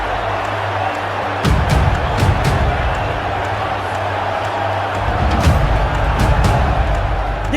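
A large crowd at Eden Gardens roars and cheers during an India versus South Africa World Cup cricket match, a dense, loud wash with swelling peaks and a voice faintly underneath.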